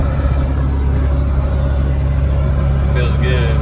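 From inside a car with the windows up and the freshly repaired air conditioning blowing, a steady low road and engine rumble fills the cabin as the car drives down the road. A voice talks briefly near the end.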